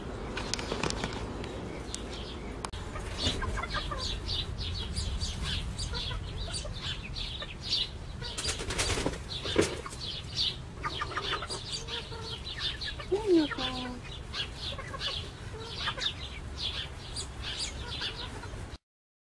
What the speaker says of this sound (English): Was asking about the Seramas, the little bitty chickens.